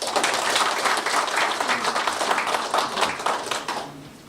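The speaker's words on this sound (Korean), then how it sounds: "큰 박수 부탁드립니다" Steady audience applause at a Korean regional association's chairman inauguration ceremony, many hands clapping at moderate loudness for several seconds before fading out.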